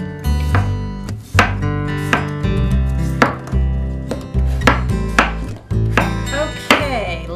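A knife chops potatoes on a cutting board in a home kitchen, with a series of sharp, close thuds in an uneven rhythm over quiet background music and no talking.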